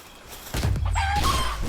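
A video game chicken gives a few short clucks and squawks over low background noise, brief and close.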